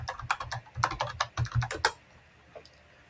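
Rapid, close clicking of keys on a computer keyboard, a quick burst of typing for about two seconds, then quiet with one last faint tap.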